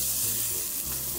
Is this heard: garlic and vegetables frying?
yes